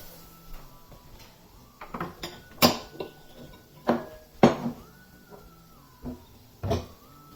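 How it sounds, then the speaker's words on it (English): A metal cooking vessel is pulled out of a kitchen cupboard, with a series of sharp clanks and knocks of pots and pans being shifted, cabinet doors bumping, spaced irregularly and fairly close. "So I'll take a vessel for this."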